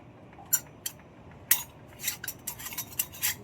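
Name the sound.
closing a metal noodle press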